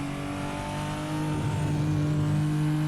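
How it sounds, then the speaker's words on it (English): A Toyota Supra engine in Assetto Corsa at Monza holds steady and loud near the top of its revs, a sustained buzzing drone that edges slightly higher as it bounces off the rev limiter, with no talk. "as I bounce it off the rev limiter"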